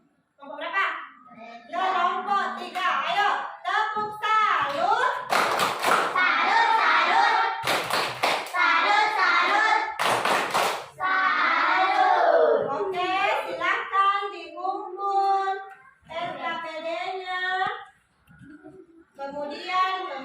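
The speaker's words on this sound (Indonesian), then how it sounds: "Ayo, tepuk salut." A classroom of children in Indonesia performs a group clapping cheer for a team of classmates, rhythmic bursts of claps and thumps mixed with kids' chanting voices, loud and close, with several sharp broadband hits.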